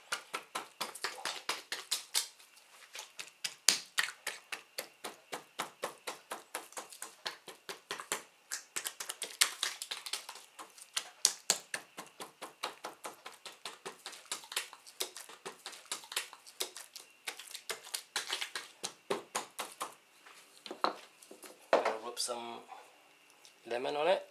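Roast pork belly skin is pricked over and over with a pricking tool, giving a fast, steady run of sharp little taps and clicks that continues throughout while a person talks.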